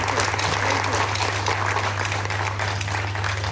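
Loud crowd applause at a film and campaign launch, a sustained, even roar of many hands clapping that carries steadily throughout, with a low hum underneath.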